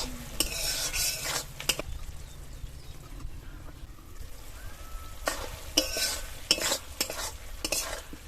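Okra in curd cooks in a pan on low heat, giving a steady low sizzle broken by bursts of spoon stirring and scraping against the pan.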